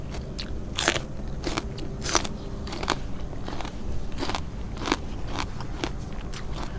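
Loud crunchy bites and chewing of a spicy Thai bitter salad with raw bitter gourd, heard close up with repeated sharp crunches every second or so and no talking.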